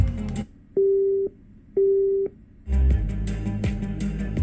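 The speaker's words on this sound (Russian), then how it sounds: "Это, наверное, прием сигнала с телефона, когда кто-то звонит" A Tronsmart Bang Max 130W Bluetooth speaker plays a prompt for an incoming phone call: two steady electronic beeps, each about half a second, with a pause between them, followed by louder clattering handling noise, and no talk.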